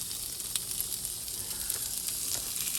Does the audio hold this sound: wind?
no